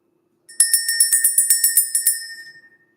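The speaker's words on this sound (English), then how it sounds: "Let's ring the bell." A small handbell rung quickly about a dozen times in an even rhythm, bright and close, each strike ringing briefly before the next, then the chiming fades out into silence, heard alone without talking.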